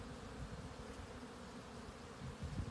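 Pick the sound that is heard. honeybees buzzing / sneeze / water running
honeybees buzzing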